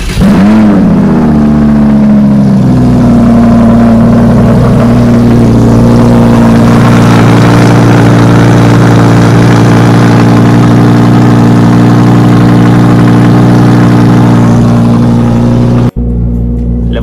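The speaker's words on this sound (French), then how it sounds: "La voiture, elle fait un petit peu de bruit." An Audi R8 V10 Plus engine fires up with a sharp flare of revs, then settles into a loud, deep, steady idle held close by for over ten seconds before cutting off abruptly.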